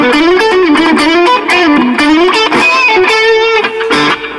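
An electric guitar through a NUX Mighty Air amp plays a quick melodic line with a lightly overdriven, slightly effected tone, loud and close, no voices.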